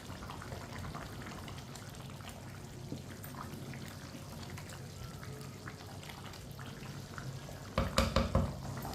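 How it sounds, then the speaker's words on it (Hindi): Chicken and rice sizzle gently in a pot while being stirred, with a soft crackle throughout and a few louder scraping strokes near the end. "मिक्स कर लेंगे एक बार।"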